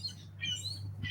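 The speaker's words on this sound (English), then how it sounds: "We've got some birds going on in the background, obviously." Birds squawking and chirping in an outdoor setting, with bright calls coming in short bursts over a steady low hum, fairly close and moderately loud.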